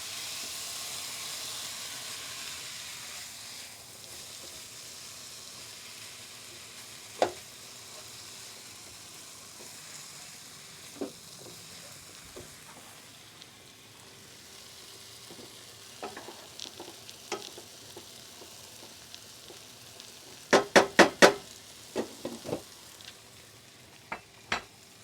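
Minced tomato cooking down in a pan as the base for fish biryani, a soft steady sizzle and hiss with occasional sharp clicks and scraping knocks of utensils, louder clattering toward the end.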